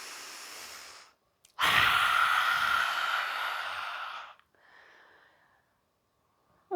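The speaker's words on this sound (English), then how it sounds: "Big inhale here, and exhale." Slow, deliberate breaths during a gentle yoga flow: a faint exhale, then a long, loud, close breath lasting about three seconds, followed by a softer, shorter breath, with no talking.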